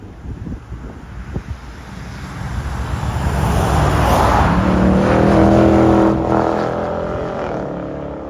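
A 2023 Dodge Challenger with a 5.7L HEMI V8 and Flowmaster Super 10 mufflers approaches with a deep, throaty exhaust rumble that swells loud as it passes close, then fades into the distance, with wind noise throughout.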